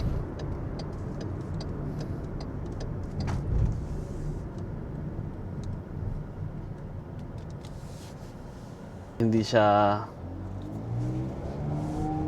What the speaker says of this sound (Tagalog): Ito lang sasakyan na dumadaan.